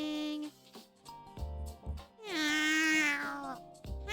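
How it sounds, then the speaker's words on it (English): A cat meows in a video game, several short meows followed by a long drawn-out, rising and falling meow, loud and close. "Is Gibson the cat on the title screen"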